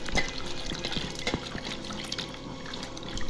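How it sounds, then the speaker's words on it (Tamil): Water is poured into a ground spice mix with cumin powder and stirred for Nagercoil-style sambar, heard as soft close trickling and splashing with faint clinks, fairly quiet throughout. "இப்போ அதில் தண்ணி சேர்த்து கலக்கி எடுத்துக்கலாம்."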